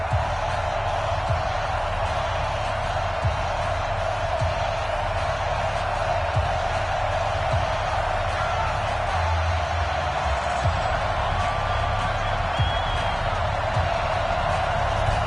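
Steady roar of a stadium crowd in an American football video game, Giants versus Raiders, a continuous dense wash of cheering that holds at an even level throughout with no distinct breaks.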